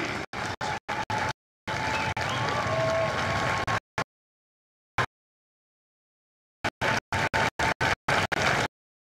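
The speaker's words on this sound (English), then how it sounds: "And a round of applause for the company staff of Company C." Crowd applause for company staff at a Marine Corps recruit graduation in San Diego, heard in clipped bursts that cut in and out with gaps of silence between them.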